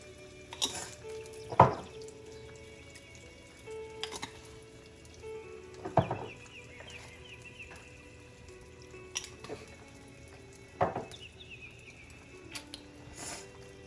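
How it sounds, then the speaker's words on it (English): An egg frying in a pan gives a soft, low sizzle under a series of sharper clicks and taps at irregular intervals, fairly quiet and without talk. "That fried right away."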